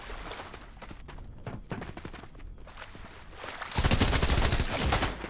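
Gunfire in Fortnite: a dense run of sharp shots through the clip, building to a loud, sustained burst near the end, with little talk.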